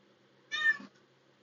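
One short, clear cat meow at close range, rising briefly out of near silence.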